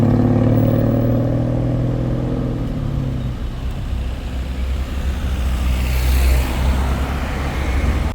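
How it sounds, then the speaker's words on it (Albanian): A queue of cars roughly a kilometre long sits at a city exit on the way to Velipoja beach. A nearby engine hums low at first, then gives way to a loud, steady rumble of passing traffic. "vargu e automjeteve në daljet të qytetit ishte rreth 1 kilometër"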